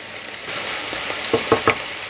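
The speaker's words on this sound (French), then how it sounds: "On n'oublie pas de le mélanger, bien sûr." Chicken paprika broth stirred in a pot just after boiling with the heat off, a quiet close bubbling hiss followed by a few short spoon knocks against the side toward the end.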